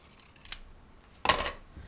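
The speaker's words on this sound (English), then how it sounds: "we're just going to cut with our paper scissors about 3/4 of an inch to an inch in on each side" Paper scissors cutting into card, two crisp snips with the second louder and longer, in a quiet room.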